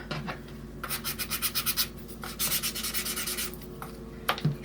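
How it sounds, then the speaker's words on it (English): Red-soled Louboutin shoe sole being scuffed with a file, rhythmic bursts of close rasping strokes in quick groups with short pauses between them. "You just file it down like this."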